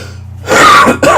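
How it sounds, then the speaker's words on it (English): A single sharp cough or throat-clear, loud and close to the microphone, with a brief pause before a second short burst. "just coughing directly into the microphone"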